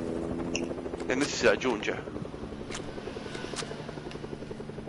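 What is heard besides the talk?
helicopter in a video game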